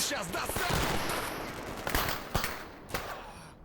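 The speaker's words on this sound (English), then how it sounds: "What the fuck are you guys shooting at?" Gunfire in the shooter STALKER, a sustained stretch of distant rattling fire with a few louder single cracks toward the end, no voices over it.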